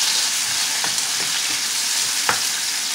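Tomato frying in a pan gives a steady, bright sizzle with a few soft stirring scrapes, close and continuous with no talking.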